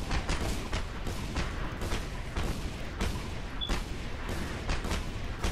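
Heavy gunfire in the video game Just Cause 2 multiplayer, a dense, loud barrage of rapid shots and booms crackling continuously without pause, with no voices over it.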